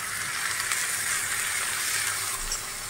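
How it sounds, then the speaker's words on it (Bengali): Tomato and green chili paste hitting fried onions in a pan, a dense, steady close sizzle of frying that runs evenly through the moment. "এবার টমেটো আর কাঁচা লঙ্কা যে পেস্টটা বানিয়েছিলাম সেটা দিয়ে দেবো"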